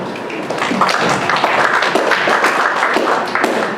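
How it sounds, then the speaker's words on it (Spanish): Applause from an audience of teachers at a storytelling workshop, a loud dense wash of clapping sustained evenly for several seconds with no talk over it. "Muy bien, un aplauso."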